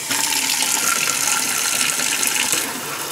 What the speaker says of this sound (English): And of course you got your sprayer versus faucet there